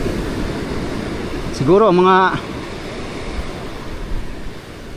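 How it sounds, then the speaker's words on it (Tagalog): Big waves surge and break steadily on the sandy shore at Dinahican, Infanta, Quezon during Typhoon Uwan, a constant loud roar of surf with a brief spoken word partway through. "Lumaki na ang dagat."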